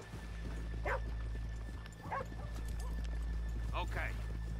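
Horses in Red Dead Redemption 2 clip-clop with hooves, steady footfalls mixed with dog barks and yips, under a constant game hum and occasional talk.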